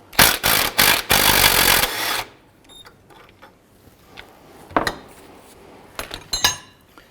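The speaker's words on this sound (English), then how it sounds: "use your 18mm wrench and your 16mm socket. I'm going to go ahead and remove this bolt." Wrench and socket working a rusty rear shock bolt on a 2004-2009 Dodge Durango, a quick series of close metallic clanks and ratchet clicks, then quiet with a few scattered taps and clinks.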